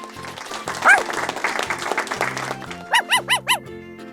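A dog barks four times in quick, evenly spaced succession, close and clear, after a stretch of cheerful music in an animal-sound guessing game.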